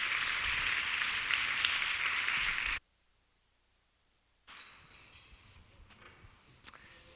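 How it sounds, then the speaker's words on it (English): Audience applause at a climate change panel event, loud steady clapping for under three seconds that cuts abruptly to silence, followed by faint room noise and a few soft clicks. "So help me welcome our speakers today with a round of applause."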